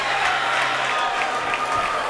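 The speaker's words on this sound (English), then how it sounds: "The crowd on their feet" Boxing fans on their feet cheering and applauding at ringside in the Salon Mezzanine in Tijuana, Mexico, after a 10-round bout, a loud, steady roar of crowd noise with scattered clapping, an announcer talking over it.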